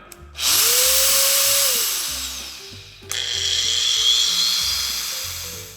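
A Steel Force TH-100G angle grinder, 1400 W, started at speed setting 6 spins up sharply to a loud, steady high whine, winds down, then is switched on again and runs near and alone.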